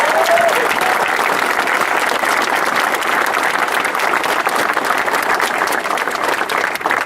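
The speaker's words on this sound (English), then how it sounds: "So can we just give them another round of applause?" Sustained audience applause fills a media day event at the Cedar Point amusement park, a dense, steady wash of many hands clapping at a constant loud level with no break.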